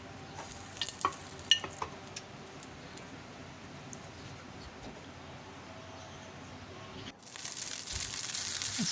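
Boiled noodles frying in a greased pan while a spoon spreads them into a flat paratha shape: quiet steady sizzle with scattered scraping clicks early on, then a louder hiss swelling near the end.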